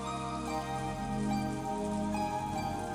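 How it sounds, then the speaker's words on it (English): Steady rain falling throughout a quiet scene in the visual novel Umineko, a continuous soft patter with faint tinkling tones and low background music underneath, no voices. "As we listened to the sound of the rain"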